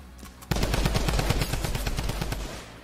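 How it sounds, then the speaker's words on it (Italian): Rapid automatic gunfire in a video game starts suddenly as a dense burst of sharp repeated shots and goes on for about two seconds before it fades, with no talking. "si giri a sparare!"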